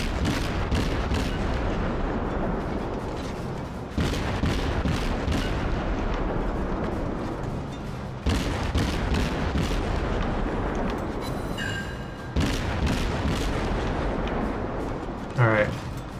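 Warship guns fire in the naval video game World of Warships, repeated heavy booming salvos every few seconds over a continuous rumbling battle din, loud and close.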